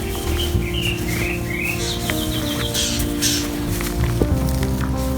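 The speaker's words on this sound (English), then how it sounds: "the birds are singing even in the rain" Birds chirp and trill in short bursts in a garden during rain, over a steady wash of background noise, with low hums and occasional rustling nearby.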